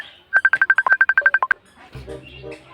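A mobile phone ringtone chirps in a rapid run of about fourteen sharp, even beeps at close range, then stops as a voice and background noise follow.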